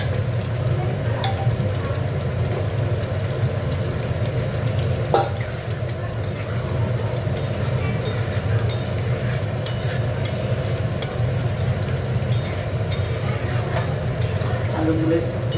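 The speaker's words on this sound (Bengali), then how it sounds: "দেখো আলুগুলো, ডিমের আলুগুলো দিয়ে কষে নেব।" Potatoes and eggs stir-fried in a pan for Bengali egg curry, with a steady sizzle running throughout and occasional utensil scrapes and clinks, close and fairly loud.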